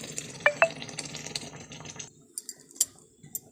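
Water is poured into a pan of mutton and potato curry, with a trickling, splashing stream up close followed by a few scattered drips and clinks as it tapers off.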